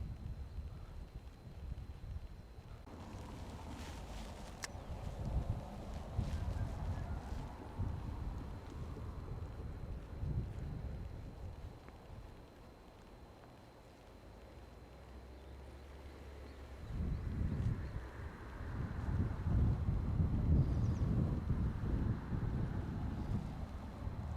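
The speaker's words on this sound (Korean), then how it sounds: "바람이 많이 부는 관계로" Strong wind buffets the microphone beside the Hongcheon River during a fishing outing, a continuous low rumble that swells and eases over about twenty-four seconds with no voices.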